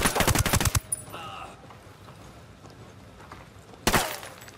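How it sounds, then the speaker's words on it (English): Ghost Recon Wildlands gunfire: a loud, rapid string of automatic shots rattles close by, then falls to a quiet lull with faint radio-style tones before another sharp burst erupts at the end. "I'm opening fire on these shitheads."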